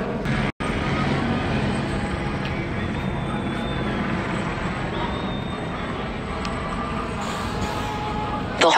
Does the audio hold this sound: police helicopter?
yes